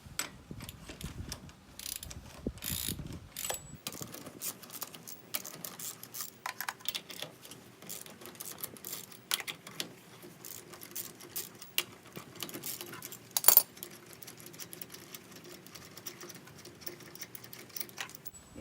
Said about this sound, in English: Now once you have the tire in the air, you are ready to take off the lug nuts.